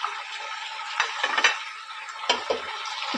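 Yakhni-cooked beef is tipped into onions frying in a pot, making a bright close sizzle with a few metal clinks and stirring scrapes, louder bursts near the middle and end, and no talking.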